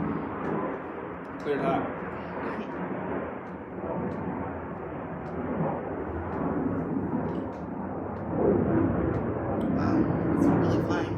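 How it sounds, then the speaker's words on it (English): An airplane passes overhead outside a garage, a steady broadband roar that fills the whole clip and swells louder toward the end, with a person talking over it. "I'll let this airplane go by."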